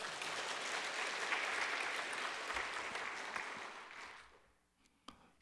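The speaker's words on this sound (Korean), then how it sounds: "박수." A church congregation claps at a Sunday afternoon service, a fairly distant, even patter that holds steady for about four seconds, then thins out and stops, leaving a couple of stray claps.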